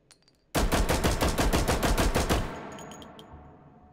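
Rapid automatic gunfire using overpressure rounds in the VR shooter Hot Dogs, Horseshoes & Hand Grenades, a loud, evenly spaced burst of about fifteen shots lasting two seconds, then a ringing decay with faint casings tinkling.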